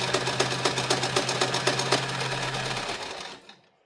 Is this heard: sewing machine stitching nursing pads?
yes